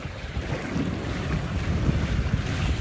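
Wind roars steadily while sailing a small boat on Lake Oahe, with a constant loud rush and microphone buffeting over faint water wash, no voices.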